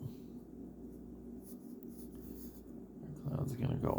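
Pencil scratching on paper as a cloud is sketched for a comic, steady close scribbling strokes that grow louder toward the end, with faint murmuring speech underneath.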